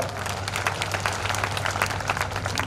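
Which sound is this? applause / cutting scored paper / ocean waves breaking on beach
applause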